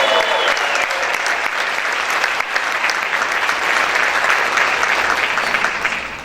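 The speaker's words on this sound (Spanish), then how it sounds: "¿Cuántos pueden aplaudir fuerte al Señor?" A church congregation claps loudly and steadily throughout, a dense, sustained wash of many hands that fills the room without pause.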